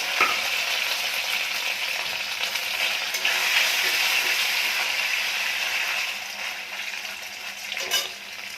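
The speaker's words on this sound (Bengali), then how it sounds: "তেল গরম হয়ে গেছে, এবার পনিরগুলো ছোট করে কেটে রেখেছিলাম এগুলো হচ্ছে দিয়ে" Paneer pieces fry in hot oil in a home kitchen for a Bengali-style matar paneer, giving a steady, loud, close sizzle that holds for the whole stretch and eases slightly near the end.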